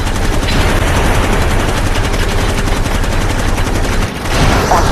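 Rapid automatic gunfire from a car window in the Gangster Vegas video game, loud and continuous for several seconds, with a brief dip near the end.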